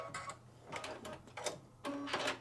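A Brother or Baby Lock embroidery machine tying off a knot, giving several short mechanical whirring bursts that grow louder at the end.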